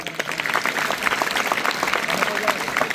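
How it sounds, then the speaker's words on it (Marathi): Audience at a felicitation and farewell ceremony applauding, a dense steady burst of clapping from a crowd filling the whole stretch. "त्यांच्यासाठी सुद्धा मी एकदा सगळ्यांनी टाळ्या वाजवल्या पाहिजेत."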